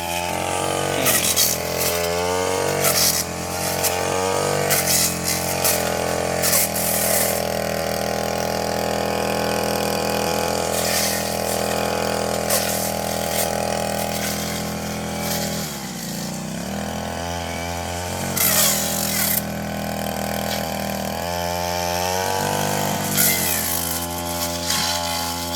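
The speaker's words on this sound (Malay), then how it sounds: "Ni Saiful sedang memotong pokok-pokok." A small motorized cutter trims plants and grass in a garden, its engine droning steadily and loudly close by for the whole stretch, revving and dipping briefly as it bites into growth.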